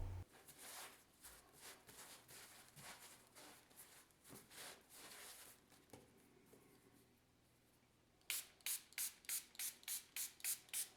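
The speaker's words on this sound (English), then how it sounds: "spray the dough with water" Quiet hand-pump spray bottle misting water onto no-knead honey oatmeal bread dough, a series of short hissy bursts, then a quicker run of crisp, evenly spaced sprays close to the microphone.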